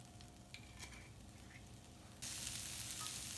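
Toasted corn and beans fry in olive oil in a pan with a constant crackling sizzle, which jumps noticeably louder and brighter partway through and stays there.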